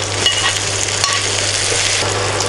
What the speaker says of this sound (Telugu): ఆనియన్స్ కలర్ చేంజ్ అయ్యి గోల్డెన్ బ్రౌన్ కలర్లో వచ్చేంత వరకు ఫ్రై చేసుకోవాలి